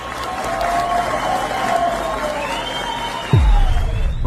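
Crowd at a gala event in Sorriso, Mato Grosso, cheering and applauding steadily with a broad roar of voices, louder and fuller toward the end.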